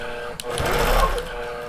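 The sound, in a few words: computerized quilting machine stitching a pantograph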